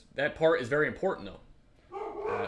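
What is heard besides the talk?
large dogs barking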